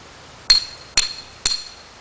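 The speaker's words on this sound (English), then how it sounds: "Get a hammer, not a little 13-ouncer." Three sharp metallic strikes of a hammer driving stakes for a canopy tent, evenly spaced about half a second apart, each ringing briefly before fading, close and loud with no talk.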